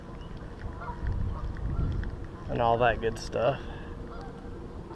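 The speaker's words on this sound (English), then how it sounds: "we're just hanging out at Ye Old Park, listening to geese and lawnmowers" Geese honk in a park, with lawnmowers also mentioned there: a short run of honks at moderate distance, mixed with someone speaking and steady outdoor background noise.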